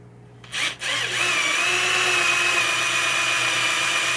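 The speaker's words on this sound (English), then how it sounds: "I got my little dimple made that where I'm drilling" A power drill bores a hole into a 1978 Bally Playboy pinball machine, starting with a short burst and then settling into a steady, loud, close whine that runs alone for several seconds.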